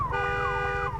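An alarm siren wails in the video game Days Gone, with steady harmonic tones and sweeping pitch glides over a low rumble, loud and continuous throughout.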